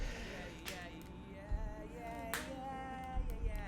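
Hand claps and foot stomps from one mic in a room, layered into a music track: two or three sharp claps and a few soft low thumps spaced out over steady music.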